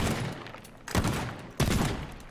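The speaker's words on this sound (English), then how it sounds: "Well, maybe the shotgun is good for this." Shotgun blasts in the game Teardown boom out three times, evenly spaced, each a loud close burst with a lingering rumble and no talking over them.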